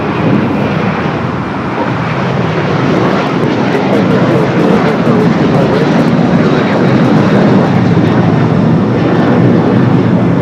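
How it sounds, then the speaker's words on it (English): A Boeing 747-8 freighter taxis along an airport taxiway at LAX, its jet engines giving a loud, steady broadband roar that holds evenly throughout with no talk over it. "a 747-8 freighter heading down taxiway Alpha"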